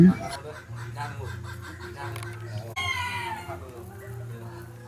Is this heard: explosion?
no